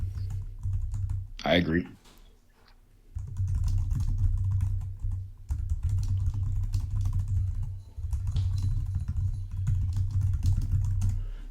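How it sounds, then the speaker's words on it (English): Computer keyboard typing runs steadily through most of the stretch as a dense patter of close clicks, broken by a short spoken remark and a brief pause. "I was typing."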